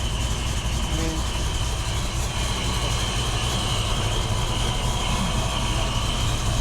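A freshly rebuilt engine idles steadily as it warms up, a continuous low mechanical rumble and hum that stays even throughout with no voices.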